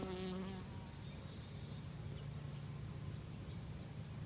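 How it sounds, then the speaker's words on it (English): Bees buzz steadily and close around watermelon flowers in an outdoor garden bed, a continuous droning hum that runs the whole time, with a few brief high tonal notes near the start and no talking. "Oh, let me just show you the bees here."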